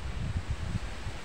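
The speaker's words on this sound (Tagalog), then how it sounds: "grabe ang hangin dito sa amin, ang lakas" Strong typhoon wind from Typhoon Kristine making landfall in the Visayas, a steady low rumbling roar with gusty buffeting on the microphone, continuous and close, with no voices.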